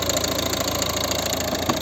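Steady, even diesel idle from a 2012 Volvo V50 with the 1.6 HDi engine, a continuous close hum and rattle with no voices over it.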